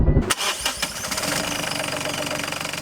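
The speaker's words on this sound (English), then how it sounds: "We start the engine to see if everything runs" A sailboat's diesel engine cranks and catches, then settles into a steady, loud knocking run that continues to the end.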